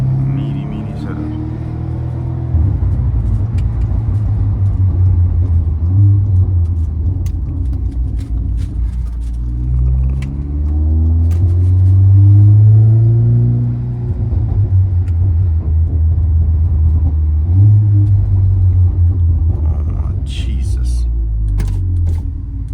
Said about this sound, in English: City driving.